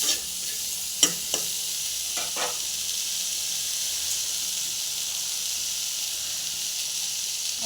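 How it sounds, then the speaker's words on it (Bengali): Leafy greens dropping into a hot pan already seasoned with salt and turmeric set off a steady, close sizzle and hiss, with a couple of brief stirring clacks near the start, and no voices. "এর উপরে এবার শাকগুলোও দিয়ে দেবো"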